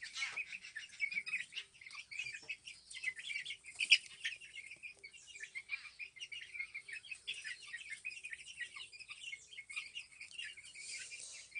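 A brooder full of Araucana chicks keeps up a continuous chorus of high, overlapping peeps, fairly faint and steady throughout.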